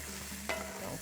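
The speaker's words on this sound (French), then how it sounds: "puis des shiitake que je vais faire revenir juste un peu" Shiitake mushrooms sauté in a hot pan for a rice-with-rabbit dish, giving a steady close sizzle with a brief stirring scrape partway through.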